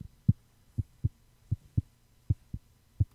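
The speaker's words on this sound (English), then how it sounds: "That is definitely a heartbeat." A steady heartbeat thumps in paired lub-dub beats, low and close, repeating evenly about every half second in The Cat Lady over near silence.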